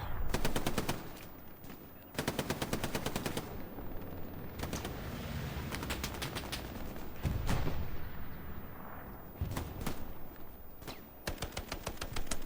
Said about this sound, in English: I do hear the MG here.